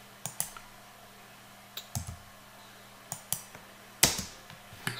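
Sharp, quiet mouse clicks land singly and in quick pairs at uneven intervals, about eight in all, with one louder click near the end as a CAD model is worked on a computer.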